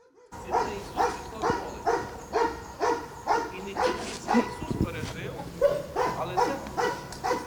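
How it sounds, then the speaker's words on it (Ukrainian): A search and rescue dog barks in a steady run of about a dozen evenly spaced barks to signal its handler during a training search for a missing person, loud and fairly close, with some background noise. "Знайшовши, собака подає сигнал господарю."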